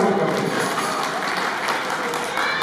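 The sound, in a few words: audience applause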